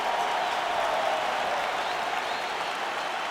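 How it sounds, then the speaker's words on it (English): Restless arena crowd in the video game EA Sports UFC 5, a steady, dense roar of murmuring and scattered clapping that holds at an even level throughout with no voices standing out. "Crowd getting a little bit restless."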